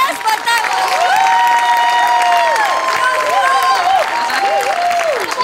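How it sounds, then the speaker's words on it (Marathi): A studio audience applauds for a performer on a Marathi comedy stage show, the clapping steady and loud throughout, with musical tones and a voice running over it. "वनितासाठी एकदा स्पेशल टाळ्या."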